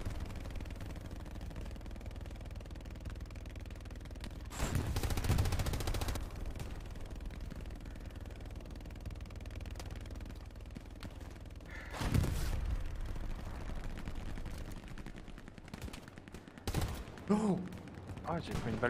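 Short bursts of automatic gunfire ring out in a video game, with two loud volleys and a few sharper shots later, under quiet background sound and occasional voices.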